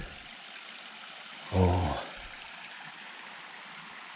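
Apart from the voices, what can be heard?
mountain stream flowing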